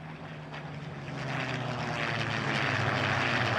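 A propeller airplane engine in Farming Simulator 19 drones steadily and grows louder as it passes close by, a broad continuous roar with no speech.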